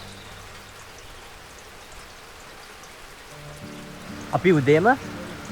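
Steady rain falling on a walk toward Na Ella waterfall in the Knuckles range, a constant soft hiss of drops with a voice speaking briefly near the end.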